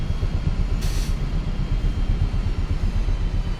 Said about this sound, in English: I don't like the sound that engine's making